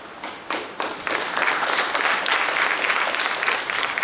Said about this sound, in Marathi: मुंबईमध्ये आता टाळ्या कमी वाजल्या